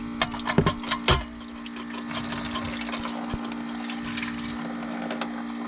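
Dishes washed with cold running water inside a van, a steady trickle under a low pump hum, with a few sharp clatters and knocks of crockery near the start.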